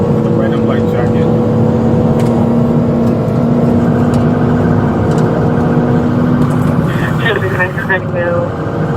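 A car engine droning loud and steady at around 100 miles an hour during a high-speed police pursuit, with a constant whirring hum and a rising tone near the end, under continuous radio-style talking.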